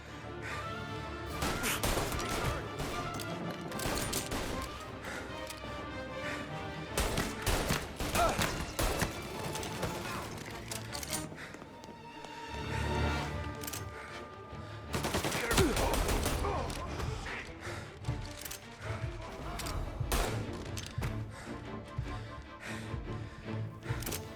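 Gunfire in the video game Mafia: Definitive Edition, a sustained, dense fusillade of rapid shots and bursts crashing continuously at high volume, with brief voices mixed underneath.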